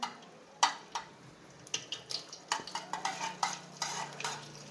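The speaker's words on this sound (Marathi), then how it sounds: "बटर टाकून घेते याच्यात थोडंसं" A spoon stirs and taps inside a pan as butter melts into hot oil, giving a string of light, close metallic clinks and scrapes over a faint background sizzle.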